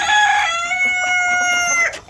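A rooster crows once, a long, loud, close cock-a-doodle-doo lasting nearly two seconds, with no talking.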